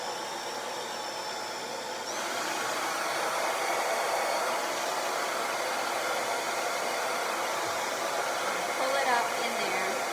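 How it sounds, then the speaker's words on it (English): A hair dryer on a cool setting blows a steady, loud whooshing stream while drying curly hair, its pitch and airflow stepping up after a couple of seconds and holding constant, with faint shifts as it moves. "when I'm drying, first I dry this way"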